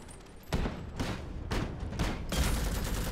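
Gunfire in the real-time strategy video game Iron Harvest, a steady distant crackle of rifle shots punctuated by several louder bursts, with no voices.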